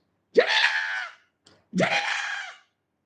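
A voice imitates a woman screaming, giving two loud, drawn-out vocal screams separated by a short pause, each rising sharply and then holding before fading, with no other talk.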